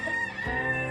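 A Barred Rock rooster vocalizes briefly and clearly at close range, a short harmonic crowing or clucking call heard alone.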